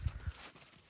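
A horse's hooves clip-clop twice, close and fairly loud, in a short burst at a Kyrgyz village horse sale, then give way to quiet background.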